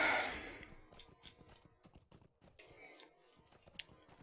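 Horse hooves clip-clop in the Lord of the Rings Online video game, a run of light, evenly spaced hoofbeats sounding at moderate volume with no voices over them.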